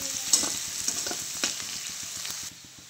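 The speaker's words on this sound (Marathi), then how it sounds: "कढईमध्ये बटाटा आणि हिरवी मिरची टाकली" Potato and green chilli fry in a kadhai with a bright, steady sizzle and a few clinks of stirring, then fade abruptly near the end.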